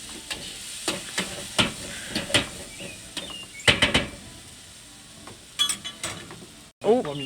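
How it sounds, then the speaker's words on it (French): Chorizo frying in olive oil in a pan for paella while being stirred, with repeated scraping strokes over a soft sizzle, close up, ending with a sharp knock. "Faire fondre le chorizo."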